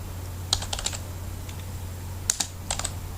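Typing on a computer keyboard while writing in MS Word: a few scattered, crisp key clicks in small bursts over a steady low hum, with no voices.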